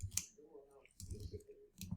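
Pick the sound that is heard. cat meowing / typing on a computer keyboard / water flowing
typing on a computer keyboard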